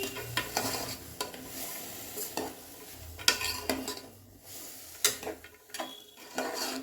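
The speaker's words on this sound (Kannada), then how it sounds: "ಈಗ ಎಲ್ಲ ಮಿಕ್ಸ್ ಮಾಡ್ಕೋಬೇಕು" A pan of saagu, a mixed vegetable curry with spices, being stirred by hand: repeated scraping and clinking strokes of a spoon against the pan over a soft sizzle, close and fairly quiet, with no voices.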